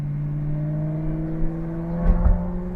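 A Maserati GranTurismo 4.7 S MC Stradale driving with a window open: its V8 engine gives a steady, low, harmonic drone with a brief swell near the end, heard from inside the car with no talk.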